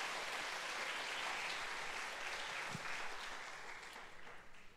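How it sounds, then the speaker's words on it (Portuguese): A church congregation breaks into steady, sustained applause for the whole stretch, a dense crackling wash that fills the room and thins slightly toward the end. "pode aplaudir o Senhor Jesus"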